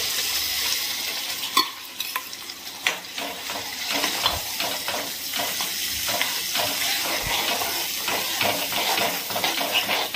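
Tomato and lentil paste tipped into a spice masala frying in oil, sizzling and hissing loudly right up close, with a few sharp clinks of a spoon against the pan while it is stirred.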